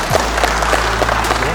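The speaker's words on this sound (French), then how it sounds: "On applaudit bien fort les gars s'il vous plaît" An audience at a kickboxing event claps and cheers after a fight ends in a second-round TKO, a loud, dense wash of applause filling the short moment.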